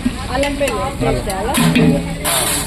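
Spices, coriander and green chillies fry for bagara in a large pot at a function, a close sizzle and stirring scrape running throughout while people talk over it.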